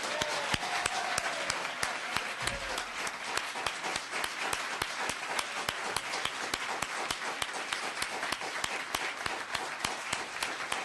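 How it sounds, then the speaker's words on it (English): Audience members at a town council meeting applaud steadily for about eleven seconds, the crisp individual claps distinct and rapid in a moderately sized room, with no speech over them. "A round of applause."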